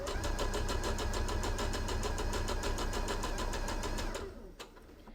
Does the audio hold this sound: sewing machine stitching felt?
yes